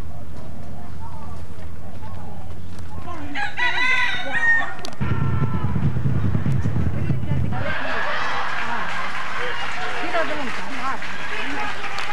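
A rooster crows close by, a loud call in the middle of the clip, among other clucking fowl and ducks, while people talk over much of it.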